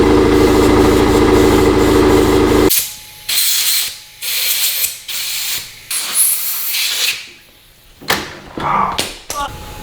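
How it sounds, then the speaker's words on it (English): An air compressor hose blasts air through a dirt bike carburetor in bursts: one long hiss, then several short sprays separated by pauses, loud and close. "I'm gonna also go run the compressor and blow air through every hole that I can get to right here."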